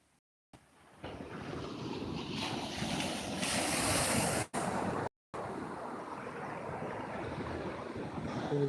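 Ocean surf rolls in at Taalo beach on Nias, a steady roar of waves mixed with heavy wind buffeting the microphone, broken by a couple of brief dropouts.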